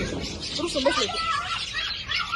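Small birds chirp and twitter at an outdoor family gathering, a busy layer of high chirps running throughout under children's voices and nearby chatter.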